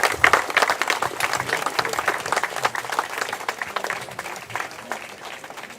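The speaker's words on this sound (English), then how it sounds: "can we also give them a round of applause?" A crowd at an outdoor candlelight vigil for a fallen police officer applauds the 911 operators, dense energetic clapping that starts strong and slowly tapers over several seconds.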